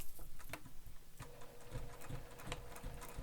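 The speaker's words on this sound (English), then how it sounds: "Now we're going to sew across this." A sewing machine runs across a pinned, pressed bag edge, its needle pattering in a quick steady rhythm with small ticks and a slight shift in pitch partway through, close and fairly quiet.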